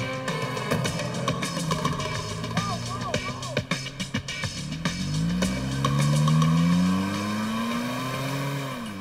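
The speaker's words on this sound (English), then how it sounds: "Escape in her car." A getaway car accelerates and drives off, its engine note rising and tires squealing loudly over about nine seconds, with a voice speaking over the engine sound.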